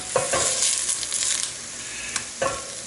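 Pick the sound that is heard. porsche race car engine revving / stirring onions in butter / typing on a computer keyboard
stirring onions in butter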